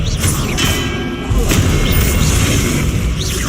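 Repeated Confringo blasting-spell explosions in Hogwarts Legacy, loud booming bursts with a rumbling low end, one near the start and another around the middle, under continuous game noise.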